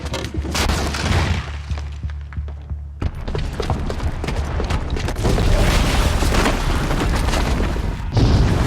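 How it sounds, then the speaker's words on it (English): Blaze bomb booby trap exploding in the video game Horizon Zero Dawn, a loud booming blast followed by sustained roaring rumble and debris crackle. "Because the booby trap on the bomb downstairs is gonna get set off."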